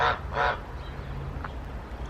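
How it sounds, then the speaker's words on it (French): Hens calling on a farm: two loud, close squawking bursts right at the start, then a single faint call, over a low steady rumble of background noise. "T'as vu les poules? Elles sont rigolotes ces poules."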